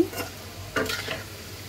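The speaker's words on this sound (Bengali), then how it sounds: "জালি কাবাব ভেজে নিচ্ছি" A short burst of jali kabab frying in a pan, with a soft sizzle and a brief scrape or clink of a utensil partway through.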